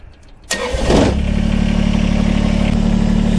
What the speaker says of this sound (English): Now we're ready to start up the tractor and move forward into the loader.